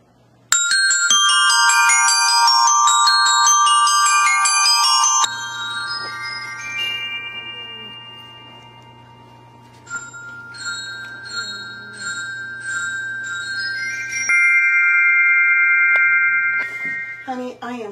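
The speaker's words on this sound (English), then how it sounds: "I mean, it's tinkly little bells," Small orchestral bells played by a percussionist ring in bright, overlapping patterns, loud and close, with sustained shimmering tones and brief pauses between phrases.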